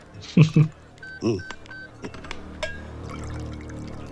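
Several short beeping tones of a phone being dialed, close by, with brief voice sounds and a soft hum of background noise between them.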